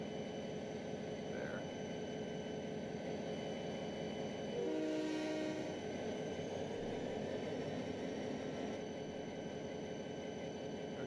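A video-game train in Trainz 12 rumbles steadily along with a constant low drone, and a short horn blast sounds midway, fairly quiet and even throughout.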